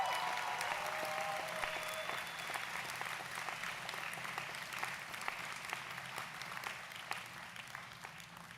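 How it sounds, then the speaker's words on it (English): Sustained audience applause fills a university commencement hall for the graduates' family members, steady dense clapping from a large crowd, fairly distant and even throughout. "I think they deserve a big round of applause"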